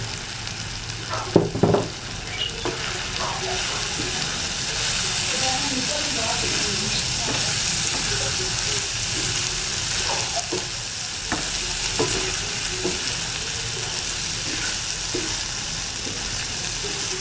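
Minced beef keema fries and is stirred on a tawa, a steady loud sizzle and hiss running throughout with scattered scraping strokes of the spatula, heaviest clatter near the start.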